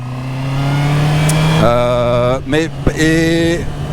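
A Honda CB650R motorcycle engine hums steadily in fourth gear, then revs up with rising pitch, briefly dropping and climbing again, loud and close.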